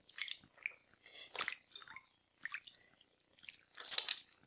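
Seitan dough is kneaded and washed in a bowl of water to rinse out the starch, giving soft, quiet squelches and wet squishes in irregular bursts, close and faint.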